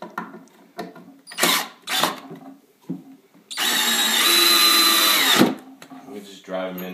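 A power drill drives 2.5-inch treated deck wood screws into a bee hive stand, one sustained loud whirring burst of about two seconds after several short bumps and handling knocks, with a person speaking at points around it.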